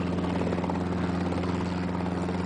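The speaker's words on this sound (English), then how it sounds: "you can hear right behind us now, there goes the helicopter." A helicopter hovers above a field at Cashman for the Las Vegas Lights cash drop, its loud, steady rotor drone and engine hum filling the scene continuously without talk.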